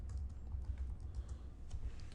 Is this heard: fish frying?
no